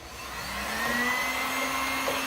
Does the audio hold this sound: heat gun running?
yes